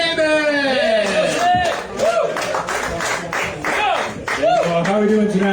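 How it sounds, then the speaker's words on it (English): An audience at a bar open mic night cheers, whoops and claps for a comedian taking the stage, loud and close, with music playing under the crowd noise. "Put your hands together for Joseph Neighbors!"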